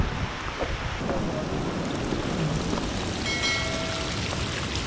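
Hot spring water runs down a mountainside on the Manaslu Circuit trek, a steady, close rushing and trickling that stays even throughout.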